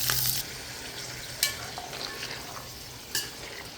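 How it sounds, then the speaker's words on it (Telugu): Vegetables and green chillies frying in oil inside a rice cooker pot for veg pulav, a steady close sizzle with stirring and a couple of sharp utensil knocks against the pot, no talk. "ఈ వెజిటబుల్స్ అన్నీ కూడా పచ్చి వాసన పోయేదాకా ఇందులో మగ్గించాలండి నూనెలో వేయించాలి"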